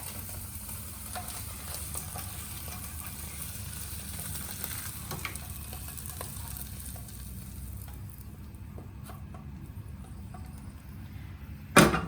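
A Thai clam pancake (hoy tod) with egg fries in oil in a pan, giving a continuous crackling sizzle with scattered pops, steady and close, and a sharp clatter at the very end.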